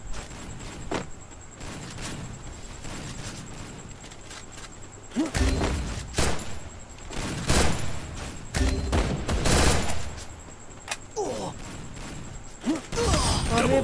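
Gunfire in a shooter video game: scattered single shots early, then dense bursts of rapid fire and sharp impacts, loud and close, with a player's voice talking over parts of the action.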